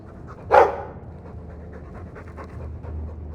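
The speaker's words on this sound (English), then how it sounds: "He's a sweet dog, Hawk." A dog in the Dragon Age 2 video game pants in quick, soft, rhythmic breaths close by, set off by one louder sharp huff near the start.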